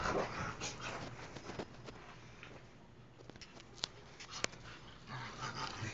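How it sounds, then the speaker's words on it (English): Faint, quiet whimpering from dogs with a few short sharp yips, fairly distant and low in level. "You two crazy dogs!"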